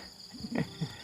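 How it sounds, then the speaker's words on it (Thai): Crickets at dawn in the foggy Thai countryside: a faint, steady high chirring drone holds throughout, with a few soft low rustles beneath it. "ตอนนี้ก็คือยังได้ยินเสียงจิ้งหรีดเสียงอะไรอยู่เลยนะฮะทุกคนได้ยินไหม"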